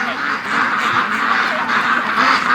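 A flock of ducks quacks steadily while being herded toward a lake outdoors, a dense, continuous chorus of overlapping calls that is close and loud.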